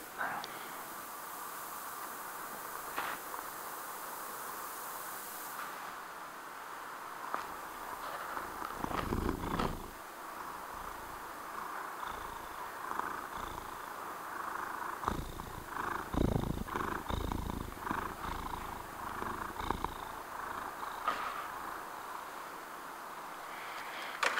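A cat purrs softly and steadily close by, a faint continuous rumble with slight rustling and quiet background hiss, no speech.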